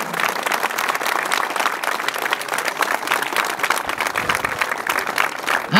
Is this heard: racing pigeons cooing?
no